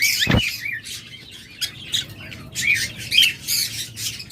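Lovebirds kept as a breeding pair give a run of sharp, repeated squawks and chirps, close and fairly loud, with no voices over them.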